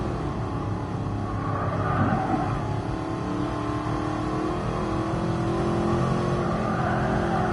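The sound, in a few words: Mercedes Black Series car accelerating hard on the Nürburgring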